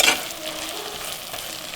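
Chicken biryani masala being stirred and fried in a pan, a steady close sizzle with scraping stir sounds, no talking.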